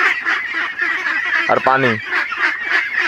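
A flock of young farm ducks raised on feed, paddy and maize gives a burst of honking quacks in the middle. Nearby chatter and background noise run underneath, and a voice speaks briefly.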